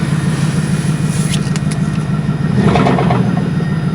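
A car engine runs steadily at idle with a low rumble, swelling slightly louder toward the end as if lightly revved.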